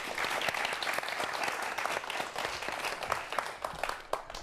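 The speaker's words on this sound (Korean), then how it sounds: "박수로 청해 듣죠." A seated audience at a televised lecture on viruses claps warmly, giving dense, continuous applause that stays full and even before thinning slightly at the end.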